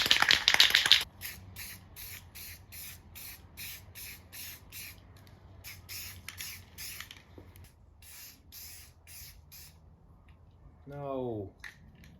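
A spray can hisses loudly at first, then sputters in short intermittent bursts while a coat goes onto a Subaru WRX roof. Someone talks quietly underneath, and a creaky squeak sounds near the end.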